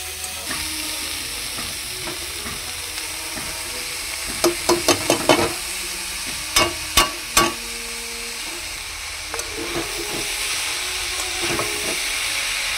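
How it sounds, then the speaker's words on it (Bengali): Washed kaun (foxtail millet) rice frying with vegetables and grated coconut in a pan, a continuous soft sizzle broken by sharp clusters of spatula scrapes and knocks against the metal. "কাউনের চালটাকে সবজির সঙ্গে একটু ভেজে নেব।"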